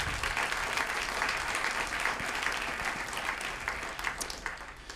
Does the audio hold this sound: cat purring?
no